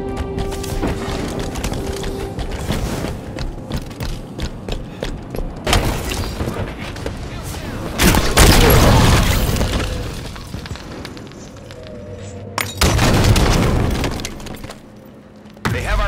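Light rifle fire in a Halo 5 capture-the-flag multiplayer match, heard as a dense mix of loud booming shots and explosive bursts over busy game noise, with sharp peaks around the middle and near the end.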